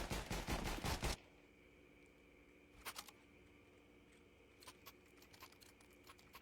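Rapid automatic gunfire bursts in Counter-Strike 2, a dense loud volley at first, then sparse shorter shots and clicks against a quiet hum.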